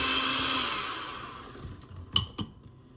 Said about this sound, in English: Now I'm going to cream together my 2 sugars and my butter until it's nice and fluffy and light.